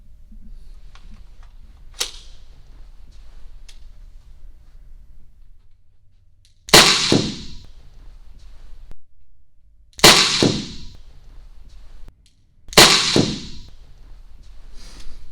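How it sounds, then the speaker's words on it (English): A less-lethal gun fires at a target as three sharp, loud shots spaced a few seconds apart, each followed by a brief ringing decay, after a fainter click and low background hum. "I'm going to shoot here, low center mass, and we'll see if there's any damage caused"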